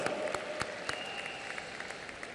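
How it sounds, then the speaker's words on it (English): An audience applauds at the closing award ceremony of the 52nd International Film Festival of India, giving steady, moderately distant clapping with sharp individual claps standing out from the crowd. "Round of applause."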